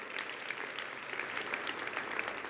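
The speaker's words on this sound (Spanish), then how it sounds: "Dale un fuerte aplauso a Él." A church congregation claps during a Spanish-language sermon, the applause fairly faint and distant with a few sharper claps standing out over the steady patter.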